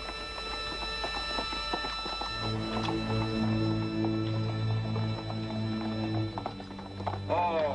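Horse hooves clip-clop in a steady rhythm over a loud background of music and other sounds, with some brief noises near the end.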